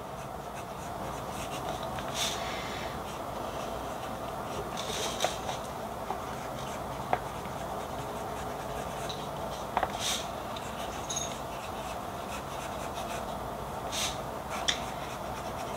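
A Nahvalur fountain pen with a medium nib glides over paper in a continuous soft scratching, with faint small ticks as strokes begin and end, close and steady with no speech.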